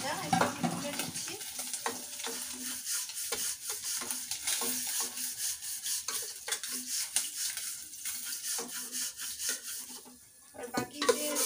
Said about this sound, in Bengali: মাছগুলো হয়ে গেছে ভাজা, একটু তুলে দিচ্ছি।